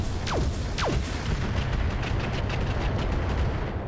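Mech weapons firing in the RogueTech battle game, a dense, continuous roar of heavy gunfire and blasts with two quick descending whooshes of launched missiles near the start, loud and sustained without talk.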